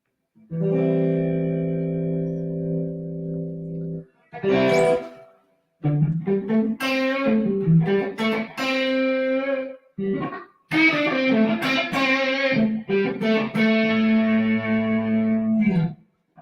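Electric guitar played through effects, with sustained distorted chords and short melodic runs broken by brief pauses, close and fairly loud.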